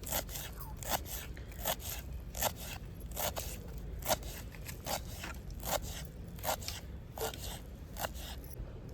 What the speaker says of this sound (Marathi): टमाट्यानंतर आता आपण कोथंबीर बारीक कापून घेऊया